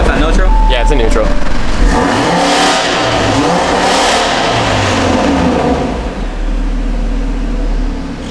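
A built engine in an Audi RS3 sits in neutral and is revved several times, rising and falling in loud bursts while people talk nearby.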